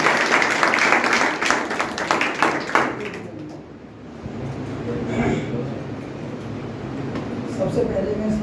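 Audience applause at a student award ceremony: a burst of clapping from a crowd for about three seconds, then fading into background murmur and voices.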